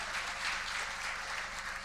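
A Tamil comedy debate show audience applauds a professor with a steady, dense wash of clapping that holds evenly throughout, with no clear speech.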